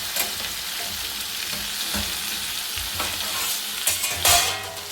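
Ivy gourd sautéing in oil in a pan with tomatoes, a constant bright sizzle broken by scraping stirs and a louder clatter near the end, close and without talk.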